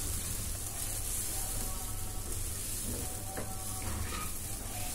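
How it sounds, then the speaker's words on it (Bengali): Lentils fry in ghee in a pot for bhuna khichuri, making a soft, continuous sizzle with a few faint stirring scrapes near the end. "এবার এটাকে আমি ভালো করে একটু ভাজা ভাজা করে নেব ডালটা"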